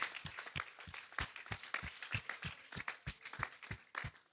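A church congregation claps hands for the Lord in a steady rhythm, about three claps per second, sharp and fairly close, with no voices over it.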